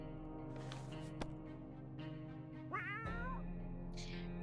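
A video-game cat gives a short rising-falling meow, close and clear, over a low steady hum and faint ambient tones.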